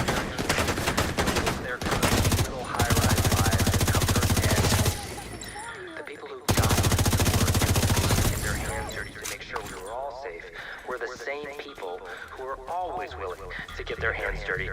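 Rapid bursts of automatic gunfire from The Division's Brooklyn battle come loud and sustained, break off, then resume and fade into scattered distant shots and electronic chatter.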